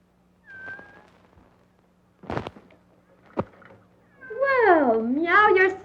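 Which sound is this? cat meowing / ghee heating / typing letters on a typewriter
cat meowing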